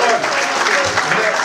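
Brief burst of audience applause at the New Year's pita-cutting gathering of an Akrotiri, Thera association, close and steady clapping with voices mixed in.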